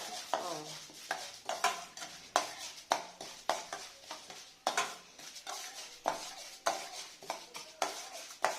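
Urad dal fries in a pan as a spoon stirs it, giving repeated scraping strokes at a quick, regular rhythm over a light sizzle, close and clear with no talk.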